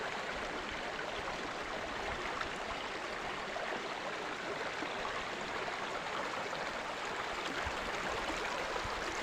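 Clear river water flowing steadily during a crossing, a constant close rushing and babbling wash with no breaks.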